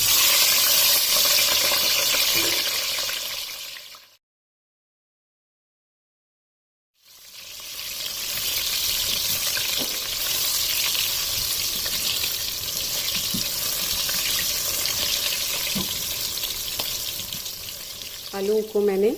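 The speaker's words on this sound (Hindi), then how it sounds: "आलू को मैंने फ्राई कर लिया" Boiled potatoes tinted with saffron-yellow food colour fry in oil for aloo dum biryani, a steady broadband sizzle that cuts out briefly to silence, then returns with light stirring and a faint water sound at the end.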